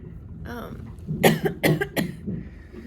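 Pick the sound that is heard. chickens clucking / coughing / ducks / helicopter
coughing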